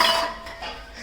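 Dishes and steel utensils clink and clatter briefly in a home kitchen as they are being washed, a short close burst of metallic knocks.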